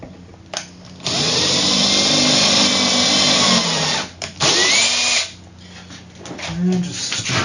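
A power drill drives a screw into a wooden Viking shield, whirring loudly and steadily for about four seconds before a short pause, then one more brief burst, close up and alone.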